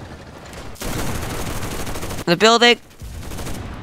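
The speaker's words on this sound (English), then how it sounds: "Oh shoot, we're taking fire" Gunfire in the WWII infantry shooter game Enlisted comes as a dense, noisy volley of shots followed by a short, loud burst, with a voice speaking briefly over it.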